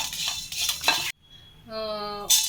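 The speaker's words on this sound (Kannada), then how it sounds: "ಮತ್ತು 2 ಮೆಣಸಿನ್ಕಾಯಿ ಹಾಕ್ಕೊಂಡು ಫ್ರೈ ಮಾಡ್ಕೊಳ್ಳೋಣ" Coriander seeds and chillies fry in a pan with a close, bright sizzle and scraping stirs, broken by a short pause where a voice speaks, then the sizzle returns.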